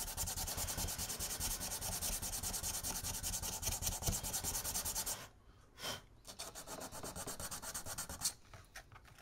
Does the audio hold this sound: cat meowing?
no